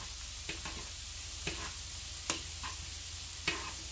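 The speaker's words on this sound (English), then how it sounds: "Give them a stir." Tortellini simmer and bubble in a pan while a spoon stirs them, giving a soft steady sizzle with four or five faint scraping taps spread evenly through it.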